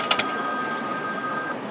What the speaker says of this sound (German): Mein Telefon geht.